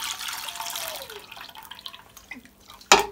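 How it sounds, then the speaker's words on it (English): Homemade Jamaican sorrel drink with lemon skin, ginger, cinnamon stick and pimento poured through a big strainer, a continuous splashing liquid rush that thins out and trickles, ending in a sudden sharp clink near the end. "So I'm just gonna strain it off. I'm gonna use the big strainer now"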